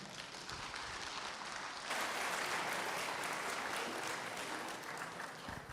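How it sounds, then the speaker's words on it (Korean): Warm applause from a church congregation at Saemunan Church after an elder's talk, a continuous even wash of clapping that swells slightly partway through and carries on throughout. "귀한 말씀 전해주신 우리 장로님께 다시 한번 뜨거운 박수 부탁드리겠습니다"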